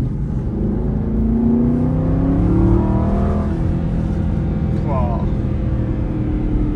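Aston Martin V8 Vantage 4.7L AMR with manual gearbox pulling hard, its engine note rising steadily in pitch as the car accelerates, loud and close from inside the cabin, with someone talking over it.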